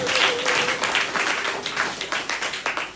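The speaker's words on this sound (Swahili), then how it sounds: "Tumpe Yesu makofi kwa ajili ya mtoto wetu." Church congregation clapping for a child during a worship service; a dense round of applause that breaks into separate, rhythmic claps toward the end, with a faint steady tone underneath.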